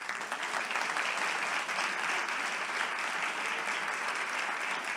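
Sustained audience applause fills a birthday celebration, a dense, steady wash of many hands clapping close by for the full stretch with no pauses, and only a faint murmur of voices beneath it.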